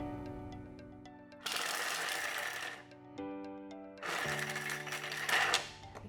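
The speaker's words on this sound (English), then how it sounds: "we're going to blitz that up at turbo about twice, just until it's nicely cut down and incorporated together" Thermomix blending chocolate at turbo speed in two short loud bursts, each about a second and a half long, over a steady low motor hum in a kitchen.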